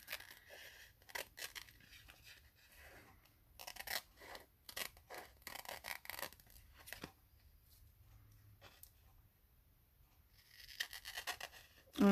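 Scissors trim the edge of a Mod Podge-coated paper ephemera craft piece, giving bursts of close, quiet snipping and rasping cuts separated by short silent pauses.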